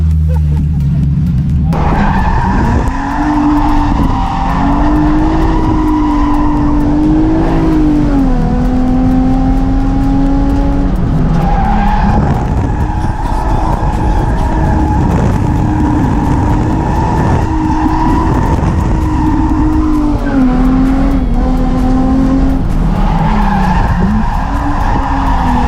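A BMW E36 drifting at a drift event, the engine revving hard and loud throughout while the tires squeal and skid in long sustained screeches, rising and falling across the run.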